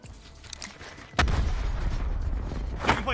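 A single sharp shot or blast in Call of Duty Blackout gameplay, a sudden loud crack followed by sustained rumbling noise, with a faint voice near the end.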